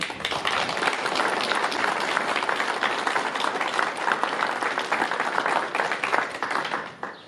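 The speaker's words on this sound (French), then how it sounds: "Je pense qu'on peut même les applaudir." A crowd at a French public gathering applauds roofing and carpentry workers with steady, dense clapping that goes on for several seconds before tapering off.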